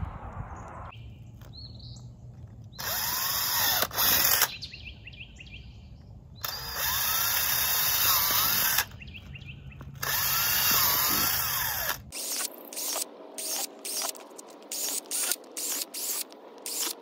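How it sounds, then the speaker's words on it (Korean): A power drill boring holes through plastic garden edging outdoors, three loud sustained whirring runs of a few seconds each, followed by a quicker series of short stuttering bursts, with faint birdsong in the pauses. "자, 이제 구멍을 뚫어 볼게요."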